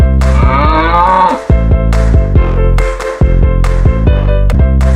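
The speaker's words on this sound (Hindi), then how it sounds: "Yak. Yak means yak." A yak calling close and loud, a long low moaning grunt followed by shorter repeated low grunts, with no voices.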